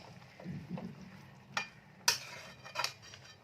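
Spoon stirring cabbage curry in a pan after the lid is lifted, a few scattered clinks and scrapes against the metal, quiet and close with a faint background hum.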